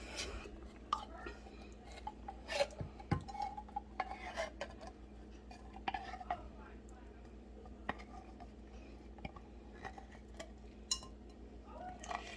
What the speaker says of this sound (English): And I use a spatula so we don't waste any